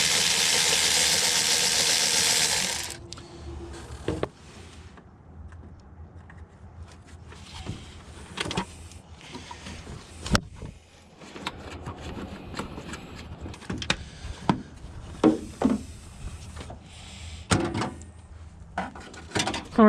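Plastic engine covers come off a 2004 Honda Pilot whose engine runs, with a loud broadband rush for the first few seconds, then the idle underneath scattered clicks, clunks and plastic knocks close up.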